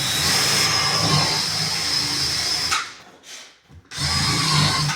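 A power drill whines steadily as it bores into a wooden ranch plank floor for plugs, loud and close, then briefly drops off before spinning back up at full speed.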